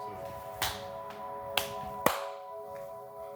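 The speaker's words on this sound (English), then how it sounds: "Yeah, if you just give it a clap." An audience claps at a live spoken-word performance: three separate sharp clap-like hits, spaced unevenly, over a faint steady hum, with no talking.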